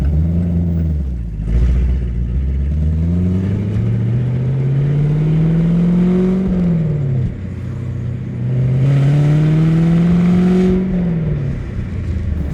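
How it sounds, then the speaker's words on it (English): A 2019 Chevrolet Camaro 1LE with an American V8 in track mode revs up and down loudly in repeated rising sweeps, heard from inside the cabin with no talk. "Car sounds absolutely fantastic. That good old American V8."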